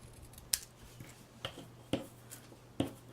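Scissors make four crisp, separate snips through paper daisy shapes, cutting them in half in a quiet room.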